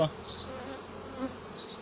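Honey bees, Buckfast, buzz around an opened hive during frame inspection, a continuous close droning hum with a few louder passes, no talk.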